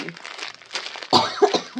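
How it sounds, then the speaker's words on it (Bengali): An elderly woman coughs indoors during a jewellery shopping haul, a couple of sharp, moderately close coughs after a stretch of quiet rustling, with no talk. "আমার মাও কাশছেন।"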